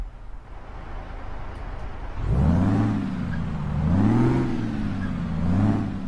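A truck engine in the game Euro Truck Simulator 2 rumbles at idle at traffic lights, then revs up and down in several swelling waves, loud and close, with no talking.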